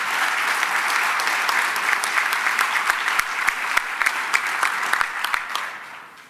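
Sustained applause with cheering fills the room at a Maine gubernatorial debate hosted by AGC Maine, a dense, steady clapping wash with sharper individual claps standing out throughout.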